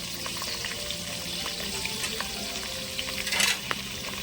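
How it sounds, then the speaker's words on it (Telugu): Green chilies and coriander fry in hot oil in a pan for a chicken gravy curry, giving a steady crackling sizzle with a few louder pops and a brief stir near the end. "కొత్తిమీర, పచ్చిమిర్చి నూనెలో బాగా వేగిన తర్వాత"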